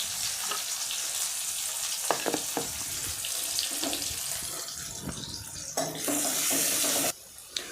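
Chopped onions frying in oil with Kashmiri red chilli, a hissing sizzle with scattered clinks and stirring knocks, ending in a brief louder rush of hiss.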